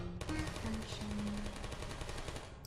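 Automated turret fire from the Portal video game rattles in a steady, rapid stream across the whole moment at moderate volume, with soft game tones underneath.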